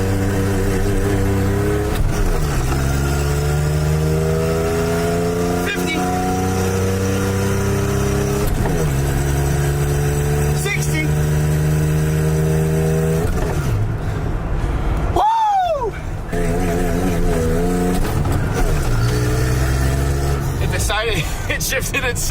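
A car engine revs repeatedly during a failed burnout attempt, loud rising and falling whines with a sharp drop and brief dip midway, while people talk over it.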